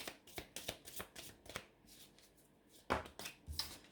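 Tarot cards are shuffled and cut by hand in a run of quick, crisp riffles and slaps, close and moderately loud, with a heavier thump near the end and no talking.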